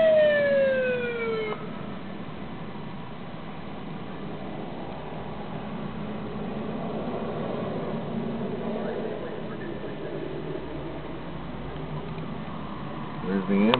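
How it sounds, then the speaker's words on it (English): An ambulance siren wails briefly at the start and returns at the end as it arrives at a rollover crash scene, over steady traffic rumble and background noise. "There's the ambulance."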